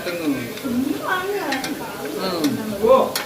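Marinated chicken tipped into a hot pan and stirred, giving a steady close sizzle with scraping and stirring clatter while someone talks over it.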